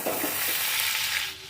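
Whole spices (cloves, a piece of cinnamon, a bay leaf) and a spoonful of cumin seeds sizzle in hot tempering oil, a steady bright crackling hiss that stays even throughout, alone without talk.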